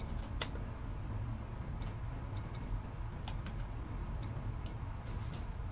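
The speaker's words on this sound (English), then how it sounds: "You have to hold it, but now you hear beep," Faint high-pitched electronic beeps from a Furitek Unity brushless ESC and motor combo sound in short clusters over a steady low hum, spaced irregularly and fairly quiet.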